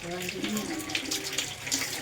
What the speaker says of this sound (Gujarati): માથું ધોવાય છે મારું